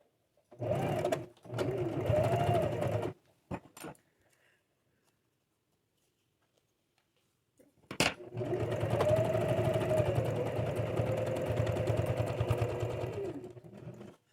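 Sewing machine stitching a pot holder, running in two short bursts, pausing for several seconds with a faint click, then a long steady whirring run; close and fairly quiet.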